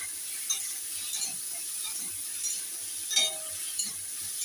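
Egg and pointed gourd curry with ginger-garlic paste is stirred in a pan, a soft low sizzle under gentle, irregular scraping strokes, quiet and close.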